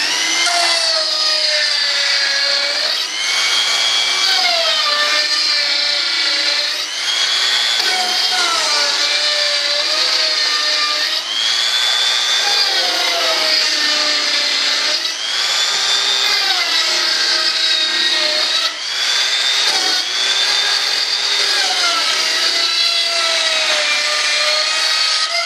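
A saw cuts wood in a workshop for an RC jet build, a loud, sustained whine that rises and falls in pitch in repeated strokes with brief dips, running continuously for the whole stretch.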